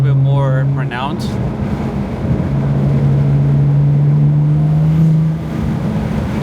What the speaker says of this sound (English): I ended up taking out the cover on the intake, so I think my intake noises are a little bit more pronounced